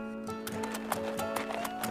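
A donkey's hooves run in a quick clip-clop sound effect for a Bible story, about eight evenly spaced hoof strikes over a steady tonal music bed, moderately loud and without speech.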